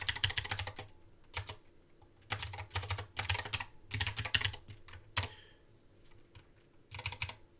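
Someone types code on a computer keyboard, with quick bursts of key clicks separated by short pauses, close and clear in a quiet room.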